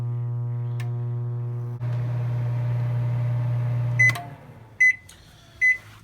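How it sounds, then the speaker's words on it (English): A microwave oven hums steadily while heating boxed mac and cheese, its low drone cutting off partway through, followed by a few short electronic beeps. "And then we stick it back in the microwave"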